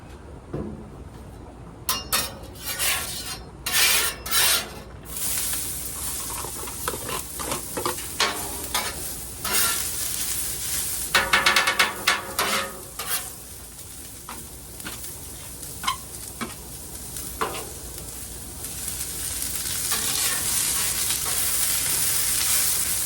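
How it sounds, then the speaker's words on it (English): Onions fry on a new Blackstone griddle on its first cook, a broad steady sizzle punctuated by frequent metallic clinks and scrapes of a spatula on the flat top, building louder toward the end, with no speech. "I'm going to go ahead and start with the onions"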